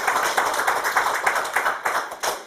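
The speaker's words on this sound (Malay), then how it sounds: "Beri tepukan kepada peptida." An audience at a product presentation claps in short, rhythmic applause with roughly a dozen evenly spaced claps, closely packed and moderately loud, ending abruptly.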